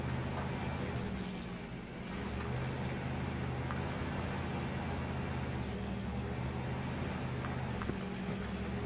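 Steady low engine drone of a log truck driving in the Spintires: Mudrunner video game, a continuous heavy rumble at even volume with a faint dip early on and no speech.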